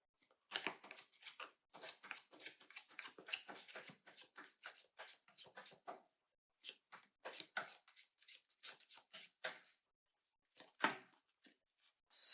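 Tarot cards being shuffled to draw clarifier cards, a run of quick papery riffles and taps in close, uneven bursts with short pauses between, no talking.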